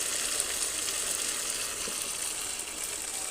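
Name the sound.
chicken with fenugreek and potato sautéing in a pan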